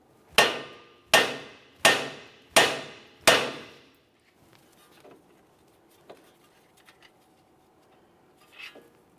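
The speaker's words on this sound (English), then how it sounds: "I'm just going to carefully use my hammer, cause some vibration." Five sharp metallic hammer strikes ring out at an even pace against the steering knuckle of a 2014-2018 Mazda 3 to free the tie rod end, followed by faint clinks and quiet shuffling.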